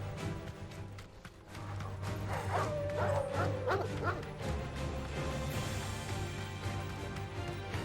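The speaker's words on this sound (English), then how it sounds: "I don't have time for you doggos." Dogs bark in the Final Fantasy 16 video game, a few sharp yips and barks clustered mid-clip over a steady low game soundscape and music bed.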